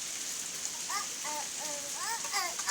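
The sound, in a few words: rain falling while children play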